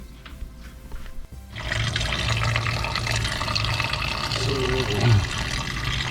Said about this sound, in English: Here we go, draining the fluid, the coolant.